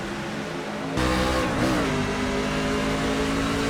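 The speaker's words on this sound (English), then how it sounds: "And the green flag is out for our NASCAR Craftsman Truck race here today." NASCAR Craftsman Series trucks roar off at the green flag to start a race at Texas Motor Speedway, a dense, loud wall of engine noise swelling as the pack accelerates together.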